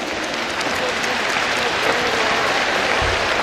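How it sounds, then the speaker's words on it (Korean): A crowd at the 16th Korea Culture and Entertainment Awards ceremony applauds, dense even clapping that fills the whole stretch at close range, a low thump near the end. "모두에게 박수 한번 크게 보내시기 바랍니다."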